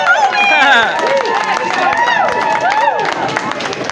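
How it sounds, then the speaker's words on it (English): Hockey arena crowd cheering and whooping loudly at a junior game, with whistles and shouted voices rising and falling over a dense babble of spectators. "Every family cheering for this guy."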